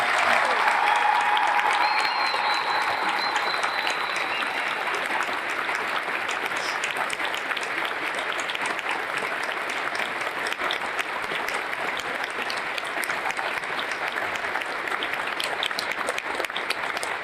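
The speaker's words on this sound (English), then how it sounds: "please give a round of applause for the 8 individuals of Reach 651" Audience applause for eight aircrew members at a Distinguished Flying Cross military ceremony, a long, even, sustained round of crowd clapping that continues steadily throughout.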